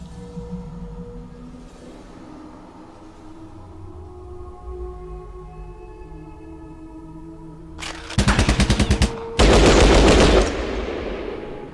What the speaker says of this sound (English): But they've still got their burst fire to go.